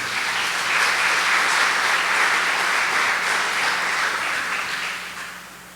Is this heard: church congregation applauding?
yes